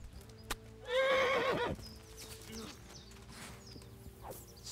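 A horse in the medieval video game Kingdom Come: Deliverance gives one loud, close whinny lasting under a second, with soft hoof clops and faint in-game ambience around it.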